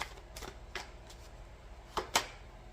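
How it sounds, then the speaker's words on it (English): A few brisk riffles and snaps of handled cards, in short bursts separated by pauses, close and fairly quiet. "I'm gonna shuffle."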